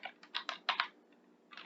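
Keys clatter on a computer keyboard while entering numbers into an Excel spreadsheet: a few quick, light taps in short bursts, close and quiet, with brief pauses between groups.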